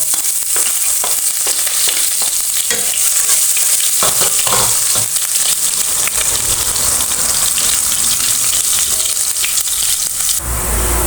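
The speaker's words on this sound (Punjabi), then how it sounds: "ਜੀਰਾ ਪਹਿਲਾਂ ਪਾਵਾਂਗੇ ਲਸਣ" Cumin and garlic fry loudly in hot oil for Punjabi kadhi, a dense, close hiss with spatters and stirring, growing into a steady roar toward the end, with no talking.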